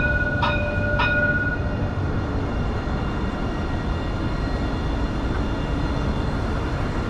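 Metro train at DMCC Metro Station in Dubai, a continuous broad rumbling roar of rolling rail cars, with two brief high tonal squeals near the start; no talking.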